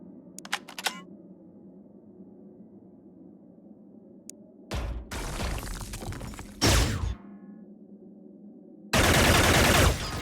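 Machine gun fire in the video game Xenonauts comes as several loud, close bursts of rapid shots separated by quiet gaps, over a low mechanical hum, with no talking.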